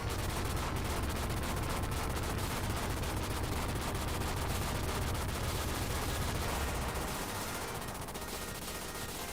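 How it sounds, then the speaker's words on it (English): Dense, continuous gunfire and explosions from the Contra video game, a loud unbroken barrage that eases slightly near the end. "I just love those explosions"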